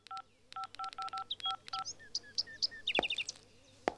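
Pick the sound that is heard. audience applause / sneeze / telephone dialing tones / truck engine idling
telephone dialing tones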